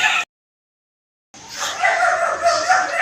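A dog lets out an odd, drawn-out bark or howl after a brief sound and a pause of silence, close and fairly loud.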